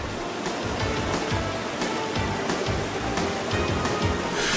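Tiered waterfalls in Turkey, water splitting and plunging from level to level, give a loud, dense and steady roar heard close up with no voices.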